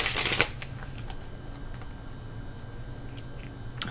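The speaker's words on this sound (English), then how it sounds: "let me shuffle the Tree Oracle." Tree Oracle cards shuffled by hand, beginning with a loud burst of riffling that quickly gives way to soft, quiet rustling and slipping of cards for several seconds.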